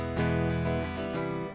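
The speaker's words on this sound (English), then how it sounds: "That's just the sound of the guitar." Electric guitar with single-coil pickups runs through an empty Line 6 Helix signal path with no amp block. A brief strummed chord rings clean and dry with a couple of light restrikes, close and alone.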